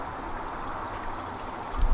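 Water flows steadily through a GOLDROP gold recovery device, a soft continuous trickling rush heard close and alone, with a brief low thump right at the end.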